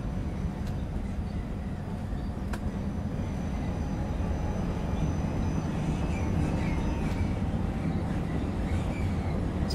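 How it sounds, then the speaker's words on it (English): Brand-new ULF low-floor tram running through the streets of Vienna, a loud, steady rumbling drone with faint squeals and clanks as it travels, heard from on board with no talking. "Pretty loud tram though, eh?"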